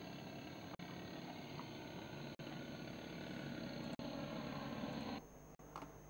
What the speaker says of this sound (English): they had put a very, very powerful motor in this airship. You can even hear it.